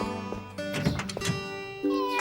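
A cartoon cat meows a few times at close range in Postman Pat, with drawn-out, wavering calls and short pauses between them.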